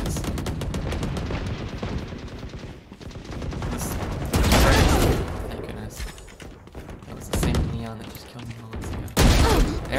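Gunfire in Valorant on the Ascent map: a rapid string of shots, with bursts at several points alongside other weapon reports, loud and close, mixed with game noise and a voice talking.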